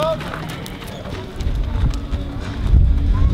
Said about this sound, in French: Regardez la maniabilité du cheval.